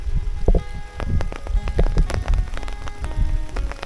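Steady rain falls on surfaces in a rural village, with dense, close patter and many distinct drips hitting near the listener throughout.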